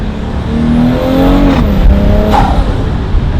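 A car engine fitted with a Vargas air intake revs loudly and steadily, rising and falling in pitch, with a sharp hiss like a blow-off valve venting near the end.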